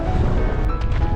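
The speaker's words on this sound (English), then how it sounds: "Oh, another gust coming." A strong gust of wind roars across a sailboat at sea, a loud, steady broadband rush with buffeting on the microphone and no speech.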